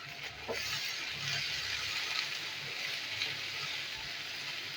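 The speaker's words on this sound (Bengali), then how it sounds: "বরবটিগুলো আমি ভেজে নিই।" Yardlong beans frying in a pan with a pinch of salt, giving a steady, fairly quiet sizzle with faint clinks of stirring, without speech.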